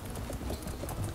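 A horse galloping in the Pony Friends 2 video game, with quiet, quick rhythmic hoofbeats filling the short moment without speech.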